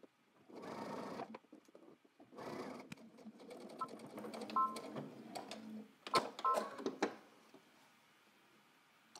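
A sewing machine stitching a welt pocket on a trench coat, running in short bursts of rapid whirring with pauses between, near and fairly quiet, with small clicks as the fabric is adjusted.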